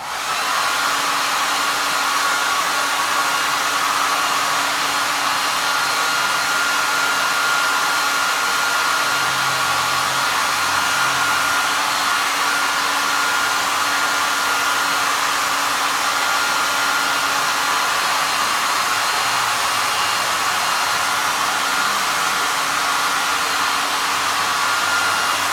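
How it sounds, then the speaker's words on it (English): A hair dryer blows steadily and loudly, up close, while heating the wax surface of a candle, a continuous airy whir with a constant motor hum that holds unchanged throughout, with no voices. "So keep moving a little bit with your hair dryer."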